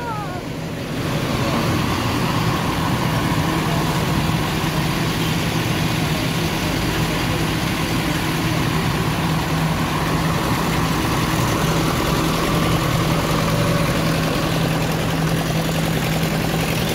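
Small shunting vehicle idling inside a crowded bus garage, a steady low diesel drone with a faint constant whine, holding unchanged and close for the whole stretch with no speech.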